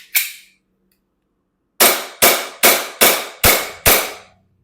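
An ENC 1103 airsoft Glock 18C pistol fires in semi-auto, giving one sharp crack followed after a pause by six quick, evenly spaced loud shots, with nothing else audible.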